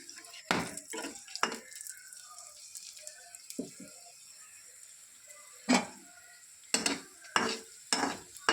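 A paratha shallow-fries in a little oil in a kadai, giving a faint sizzle broken by sharp, irregular bursts of spatula scraping and clinking.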